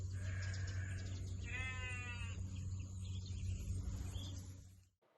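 Sheep on a small farm during lambing season bleat several times in a row, moderately close, over a constant low rumble of background noise that cuts off abruptly near the end.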